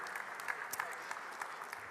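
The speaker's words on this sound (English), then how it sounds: "Let's give him a round of applause for that." Audience applause following a thank-you to Richard Branson at a live charity stream event, a steady dense wash of clapping with occasional louder peaks, moderately distant and fairly quiet throughout.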